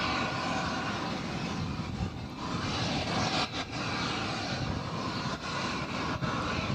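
Aircraft on approach to runway 20 left at BNA, Nashville, a steady distant engine roar that holds evenly with slight wavering and no talking over it.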